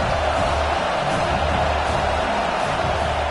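A college football stadium crowd roars as a continuous, dense, loud wall of noise throughout, with no clear breaks.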